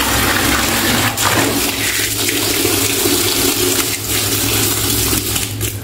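Tap water running hard onto a dirty door mat, a loud, continuous close splashing rush with slight surges and no pauses.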